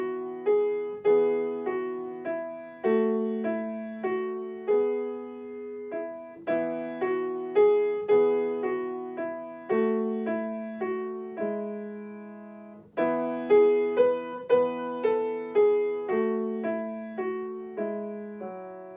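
A slow, gentle piano melody of a French folk song, marked lento, with soft chords, each note ringing and decaying, played alone at an unhurried pace.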